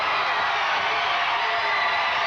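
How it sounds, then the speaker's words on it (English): Wrestling arena crowd roaring for Matt Borne and Jeff Jarrett as they reclaim the World Tag Team title at a USWA event, a dense, steady wash of cheering and whoops held at full volume throughout. "Listen to the crowd."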